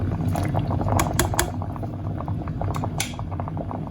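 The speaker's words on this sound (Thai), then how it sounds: "เราจะใช้เวลาต้มเขา 11-12 นาทีนะคะ" Rigatoni pasta boiling in a pot of water on the stove, a steady bubbling rumble with scattered sharp clinks and taps of utensils against the pot, close by and fairly loud.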